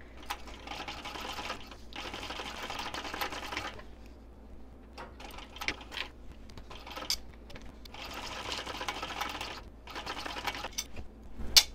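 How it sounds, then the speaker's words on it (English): A sewing machine sews a 3/8 inch seam on a clutch bag in several short, moderate bursts separated by quiet gaps and small handling clicks, fairly close but not loud. "we're going to stitch this on at a 3/8 inch seam allowance"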